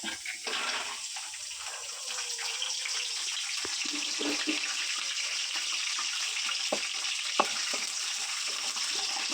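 Peanuts, curry leaves and spices fry in oil for masala chitranna, giving a soft, even crackling sizzle close by with a few faint clinks of a utensil, no voices.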